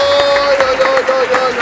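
Guests at a tribute gathering applaud a man being introduced, a loud, close burst of clapping while a tonal sound and a voice carry on over it.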